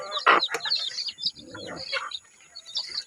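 Newly hatched chicks give high, thin peeps and chirps in quick irregular bursts, close by, with faint background sounds between calls.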